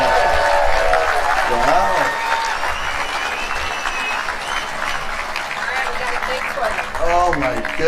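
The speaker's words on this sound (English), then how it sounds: "a big happy birthday round of applause for Andre Agassi" A crowd at a pickleball championship claps and cheers for Andre Agassi's birthday, steady loud applause over several seconds with voices calling out on top.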